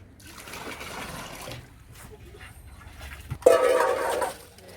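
Water splashes onto wilting papaya plants at a rural home. Soft trickling and talk come first, then a louder, brief pour near the end.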